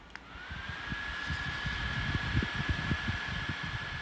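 A rechargeable neck fan held close to the microphone: a steady, airy whir with a thin motor whine that rises as it starts and then holds, with soft handling bumps and taps as the speed is adjusted.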